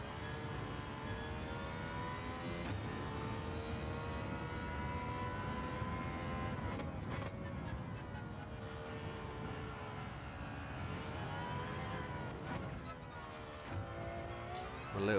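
An Aston Martin Valkyrie hypercar engine in Gran Turismo 7 at the Red Bull Ring, droning loud and steady with rising harmonic whine as it accelerates, dipping briefly when throttle eases before climbing again.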